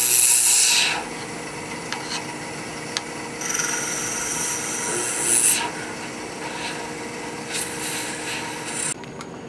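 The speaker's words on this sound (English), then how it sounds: "I finished up the scraping." A hand scraper rasps across wood in steady strokes while hollowing out a wooden pin tray, a close, continuous scratchy rubbing with brief brighter swipes and small knocks.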